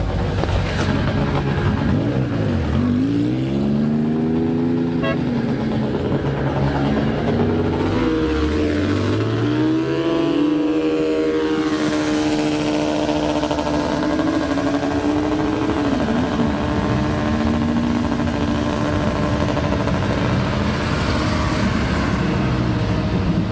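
Cars circle an autocross course at a 1998 event in Front Royal, Virginia, their engines droning and rising and falling in pitch as they pass, loud and steady throughout with no talk.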